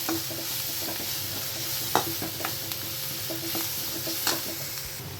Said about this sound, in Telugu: ఇప్పుడైతే ఉప్పు వేసుకుందాం కొంచెం పసుపు బాగా కలిపి